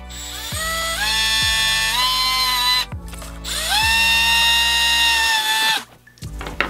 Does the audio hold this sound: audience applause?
no